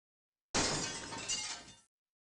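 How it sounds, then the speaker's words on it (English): Glass shattering and mannequin parts crashing onto a sidewalk in the video game The Adventures of Batman and Robin: one loud, dense smash that starts abruptly, then rattles and fades over about a second, with no voices. "Outside, a shower of glass and mannequin parts crashed onto the sidewalk."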